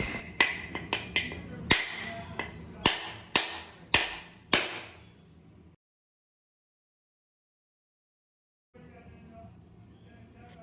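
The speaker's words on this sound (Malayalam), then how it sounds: "ഇനി നമുക്ക് തേങ്ങ പൊളിക്കാം കേട്ടോ." A coconut being broken open with about nine sharp, ringing knocks in quick, uneven succession, followed by a stretch of silence and then quieter background sound.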